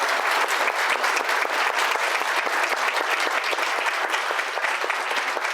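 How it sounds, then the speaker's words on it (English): A room full of legislators and attendees at an education forum breaks into a sustained round of applause, steady, dense clapping that holds at an even level throughout. "can you guys join me in a round of applause"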